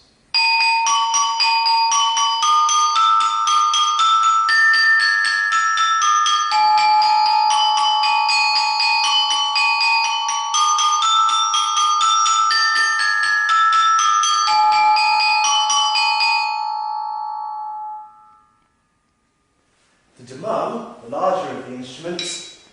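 A gamelan saron plays a looping tune on bright metal bars while a peking doubles each note above it, producing a dense, ringing, loud metallic melody. The notes sustain and fade, and then a voice speaks alone.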